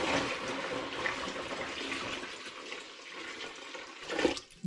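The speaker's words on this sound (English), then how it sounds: "now the big pan and the big dramatic pour" Home-brew saison wort, brewed with rhubarb and Earl Grey, poured in one long continuous splash from a big pan into a bucket, a loud steady rush of liquid that swells briefly near the end.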